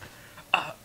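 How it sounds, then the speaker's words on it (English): Two short, close, rough bursts of throat clearing, one after the other, with nothing else around them. "I feel like I have to like keep clearing my throat"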